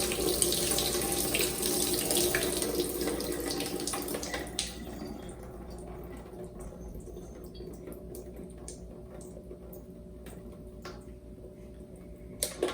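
Rinse water drains off sprouted microgreen seeds in a hydroponic tray. A strong, close stream of running water fades after a few seconds to a thin trickle with scattered ticking drips.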